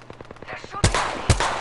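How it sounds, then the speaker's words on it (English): Video game gunfire in an online shooter played on PS4, with a light rapid patter of shots followed by two loud, close bursts, as players talk. "They're shooting at me."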